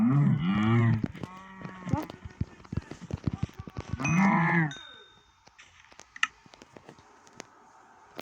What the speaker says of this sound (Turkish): Aha inek var abicim inek.